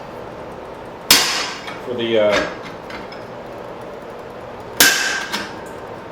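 Two sharp metallic hammer blows on hot steel while forging a cross peen hammer head, each a bright ringing clang, close and loud, separated by a pause in which someone speaks briefly.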